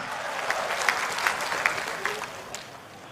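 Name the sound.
audience applause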